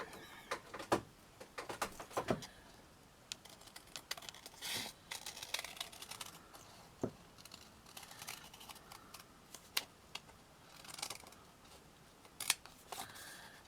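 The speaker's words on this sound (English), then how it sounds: "where's my scissors? I'm just going to cut it." Repeated crisp snips of scissors cutting through card, irregular clusters of sharp cuts close by, with small rustles between them and no talking.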